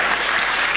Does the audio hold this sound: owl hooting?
no